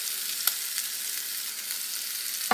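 Sausage browning in a pan, a steady bright hiss of sizzling fat with a few small pops and crackles, close and continuous with no voices.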